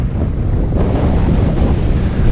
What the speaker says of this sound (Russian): Ох и ветер, ох и ветер.